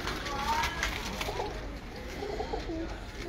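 Pigeons in a loft give soft cooing calls under a steady noisy background, with a voice talking over them at times.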